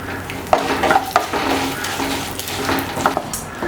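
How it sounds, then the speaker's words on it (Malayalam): Curry leaves and split dried red chillies frying in hot oil in a pan, a steady close sizzle with a few light spatula scrapes and clinks against the metal. "ഇതൊന്ന് ലൈറ്റായിട്ട് ഫ്രൈ ചെയ്തെടുക്കാം കേട്ടോ, കരിഞ്ഞു പോകരുത്."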